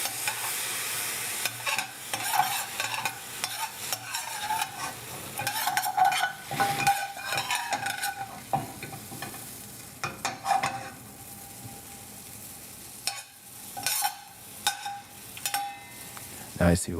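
Sugar stirred while it caramelizes in a non-stick pan, with repeated scraping and stirring strokes and a light sizzle, intermittent and close, pausing now and then.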